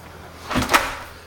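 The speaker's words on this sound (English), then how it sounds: "Close this back door here." A back door on a roadside concession trailer swings shut, giving a single close thump with a short rattle, heard nearby in an otherwise quiet interior.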